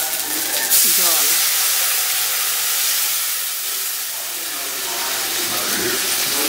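Water poured into frying spice masala with two green chillies in a pan, bursting into a loud steady sizzle and hiss that slowly settles, heard up close with no talking.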